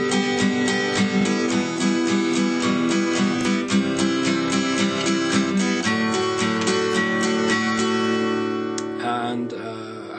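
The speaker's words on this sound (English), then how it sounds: "strummed down and then up on the 8th notes" A guitar strums alternating down and up strokes in steady eighth notes, evenly paced chords ringing continuously at a moderate level, alone without any voice.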